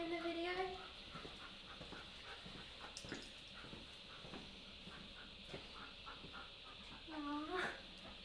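A big dog gives faint, high whimpering whines at the start and again near the end, quiet and close, with soft talking in the background.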